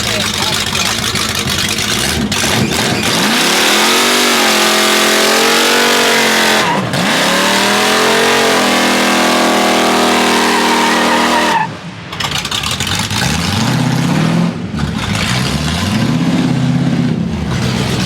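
At a car meet, a loud car engine revs hard and roars nearly nonstop, with tire squeal and brief dips, while people talk and shout nearby.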